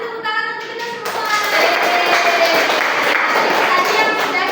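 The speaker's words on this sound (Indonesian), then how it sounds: "kasih tepuk tangan untuk kita semua" A third-grade class clapping together in a classroom, dense rapid hand claps swelling after a short opening voice and continuing steadily.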